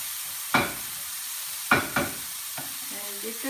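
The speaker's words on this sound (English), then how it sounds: "And just stir them." Mixed vegetables are stirred in a pan, giving three or four quick scraping spatula strokes with a light sizzle, close and otherwise quiet.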